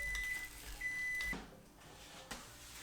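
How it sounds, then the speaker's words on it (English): A microwave oven heats mashed potatoes with a steady mechanical hum and a thin tone. The hum drops off partway through, and a short sharp click follows near the end. "microwave mashed potatoes."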